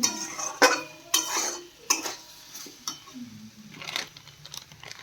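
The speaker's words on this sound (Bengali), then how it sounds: "মশলা দিয়ে ভালো করে নাড়াচাড়া করে নিচ্ছি" A utensil stirs potatoes with ginger, garlic, onion and spice powders in a pan, close by. It makes sharp, irregular clinks and scrapes against the metal, separated by quieter pauses.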